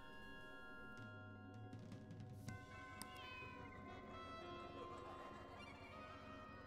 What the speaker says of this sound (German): Ey, würden Sie die Katze rauslassen?